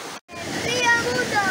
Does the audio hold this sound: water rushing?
yes